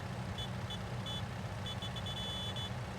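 A truck in Farming Simulator 19 reversing, its backup alarm beeping in a repeated rhythm of short high tones over a low, steady engine rumble, fairly faint overall.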